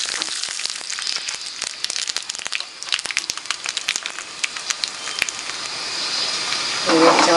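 Mustard seeds, dried red chillies and half a teaspoon of oil sizzle and crackle in a hot pan while tempering pineapple rasam, giving a dense, steady hiss with sharp popping seeds, close by.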